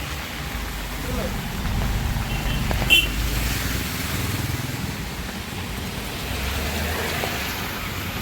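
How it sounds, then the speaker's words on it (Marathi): Steady heavy rain hisses across the whole recording at Lonavala, with a brief sharper clatter partway through and faint voices underneath. "फुल पाऊस आहे फुल."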